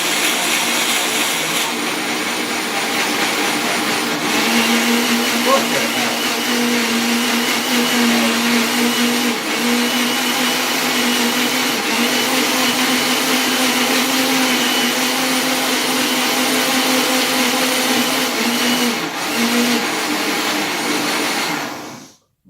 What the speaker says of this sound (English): very loud as far as blenders go